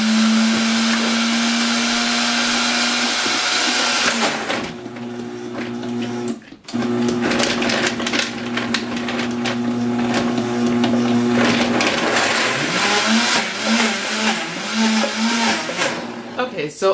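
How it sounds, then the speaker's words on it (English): An Oster Versa blender running on low to crumble raw vegan cheesecake crust ingredients, a loud steady motor whir that drops out briefly, restarts, and churns unevenly as the thick mixture catches. "I have all the ingredients in the Oster Versa Blender, and I'm just going to try to put it on low to crumble it up."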